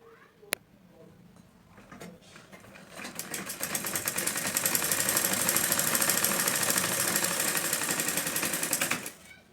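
Sewing machine stitching blouse pieces together, a rapid close mechanical clatter that builds up, runs steadily for several seconds and then stops, after a sharp click near the start.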